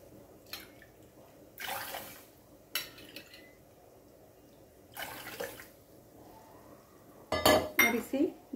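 A metal pot and utensils clink and clatter in a kitchen as sugar and water are added for kada prasad, an aate ka halwa, in a few short bursts with quiet gaps between.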